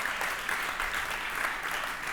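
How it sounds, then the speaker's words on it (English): Audience applause at a club's centennial celebration, honoring its longest-serving member: a steady, fairly soft wash of many hands clapping together, with no voices over it. "Okay, you can clap for him."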